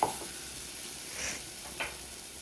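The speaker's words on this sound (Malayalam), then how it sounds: "പച്ചമണം മാറുന്ന വരെ നമുക്കൊന്ന് ഇളക്കാം." Masala for tomato rice frying and being stirred in a pan, a soft steady sizzle with faint scraping of the spoon, quiet and close.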